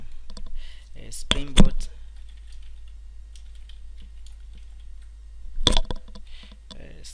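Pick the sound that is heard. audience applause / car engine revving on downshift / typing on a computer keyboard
typing on a computer keyboard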